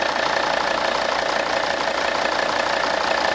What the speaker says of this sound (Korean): 엔진 한번 들어보시죠. 5기통.